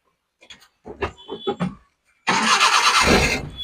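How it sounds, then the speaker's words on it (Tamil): A Maruti Omni MPFI engine cranks with several short stuttering turns, a brief pause, then catches and roars into a loud, steady idle nearby. "ஒரே ஒரு ஸ்டார்ட்ல எப்படி ஸ்டார்ட் ஆயிடுச்சு பாருங்க"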